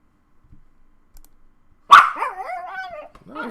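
A puppy barks indoors: near silence with a few faint clicks, then a single sharp, loud bark followed by whiny, yelping vocal sounds that trail off and start again.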